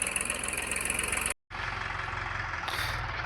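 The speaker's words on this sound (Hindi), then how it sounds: "ये देखो जी अलग सा साउंड निकल कर आ रहा है भाइयों रेस छोड़ने पर" New Holland 3032 tractor diesel engine fitted with a new silencer, throttle released so it settles into a steady, rumbling idle with a rhythmic exhaust pulse and a brief cut partway through, close and loud with no talking.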